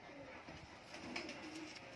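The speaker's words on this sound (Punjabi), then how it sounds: "ਦੇਖੋ ਮੋਮੀ ਨੋਕ ਮੈਂ ਟੈਡੀ ਕਬੂਤਰ ਹੈ ਬਾਈ" Teddy pigeons coo softly at close range, low throaty murmurs repeating over light background noise.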